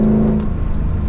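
A powerful supercharged V8 engine of a Mercedes E55 revs loudly and close, a deep throaty roar with supercharger whine, no talking.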